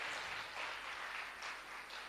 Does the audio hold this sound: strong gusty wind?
no